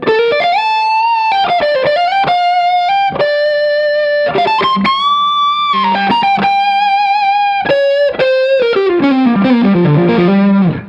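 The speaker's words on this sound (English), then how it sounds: "Here it is with a bit of boost." Electric guitar through a JAM Pedals Double Dreamer, Tubedreamer overdrive side with boost, playing a loud, sustained single-note lead line with bends and slides, ending in a descending run, no voices.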